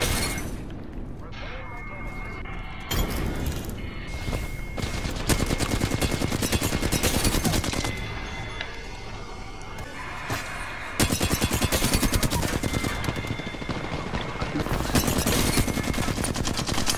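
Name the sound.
gunfire in the video game Apex Legends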